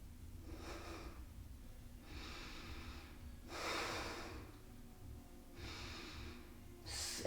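During a yoga class, a person breathes fast, intensely and loudly, with five or so long, noisy forceful exhalations spaced about a second apart, close and alone without talking.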